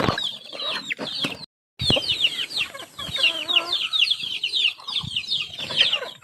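Chickens and chicks cluck close by in a dense, overlapping mix of short clucks and high peeping chirps, broken by one brief silent gap.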